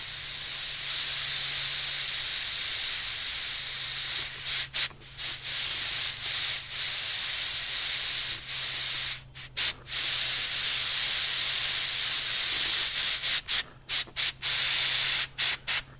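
An airbrush sprays paint in fine micro-detail work, a steady soft hiss with breathy, rubbing texture and brief stops as the trigger is released, fairly close.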